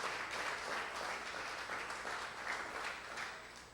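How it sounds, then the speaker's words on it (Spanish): Faint, distant applause from a church congregation in Argentina, a steady wash of many hands clapping that swells slightly in places before tapering. "Démosle un aplauso a toda la gente que nos ve por la televisión."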